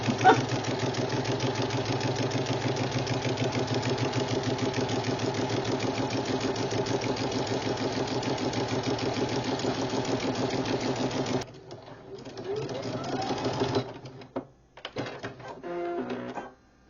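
Sewing machine stitching a hem on handwoven fabric, a fast, even, loud mechanical chatter running steadily for over ten seconds, then slowing into irregular short bursts and clicks, with no talk.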